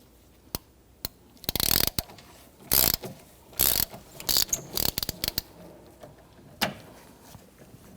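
A hand ratchet clicks in short loud bursts while loosening the bolt on a camshaft position sensor of a 2011-2015 Kia Sorento 2.4L four-cylinder, several rapid clicking runs between pauses, close up and with no talking.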